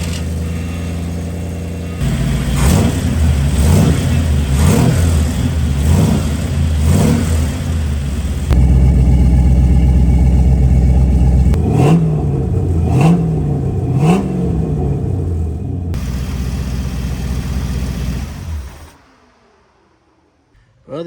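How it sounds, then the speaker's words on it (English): A car engine with a budget custom exhaust and modified headers idles roughly, then revs repeatedly in bursts before cutting off into near silence. "We're going to fire her up."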